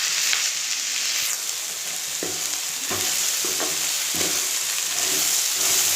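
Eggplant and drumstick curry sizzles steadily in a pan with curry leaves and coriander, with a bright constant frying hiss broken by several soft scraping stirs of a spoon.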